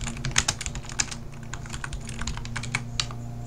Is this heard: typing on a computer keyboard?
yes